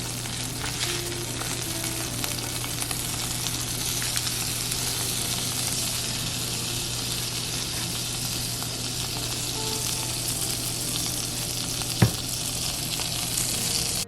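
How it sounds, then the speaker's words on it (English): Steady sizzling and crackling of shrimp frying in butter in a hot pan, with a constant low hum beneath and one sharp clink near the end. "And I let it kind of simmer, sizzle like that"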